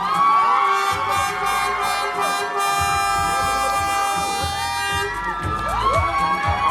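A crowd cheers and applauds loudly at the Miss Tourism Thailand 2025 winner announcement, with sustained shouting, whoops and music-like tones layered over continuous clapping.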